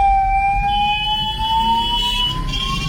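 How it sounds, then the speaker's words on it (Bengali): An ambulance siren sounds in crowded market traffic on a narrow road, a steady, slowly rising tone held over the continuous low rumble of engines, with no talking. "অ্যাম্বুলেন্স গেলে তাকে দিতে হবে আগে জায়গা"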